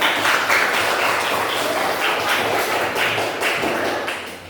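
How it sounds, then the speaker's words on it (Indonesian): Classroom audience at an Islamic lesson clapping as a group, a dense patter of many hands with light tapping beats, loud and close, fading slightly toward the end. "Kasih tepuk tangan dulu."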